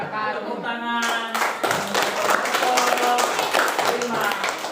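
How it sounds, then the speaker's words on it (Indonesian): A group of schoolchildren and teachers at the closing of a class session clap their hands together in a sustained round of applause, mixed with voices talking over it. "Tepuk tangan."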